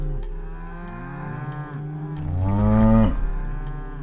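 Cattle lowing on a working sheep and cattle farm at Wroxall on the Isle of Wight, with several overlapping deep moos, one swelling louder and longer near the end, heard alone without talk.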